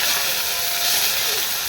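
Four dried chillies and bay leaves sizzle in hot oil, a close, loud, continuous hiss filling the short moment without a break.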